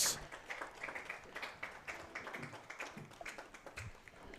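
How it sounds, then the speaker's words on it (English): Round of applause for senior softball players at a home game, a steady patter of scattered clapping from a modest crowd, fairly distant and even throughout. "Let's give one big round of applause for our senior Lady"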